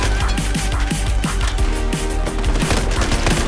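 Rapid bursts of automatic gunfire in the Battlefield 4 video game, a dense fusillade of close and distant shots cracking continuously over a loud combat backdrop.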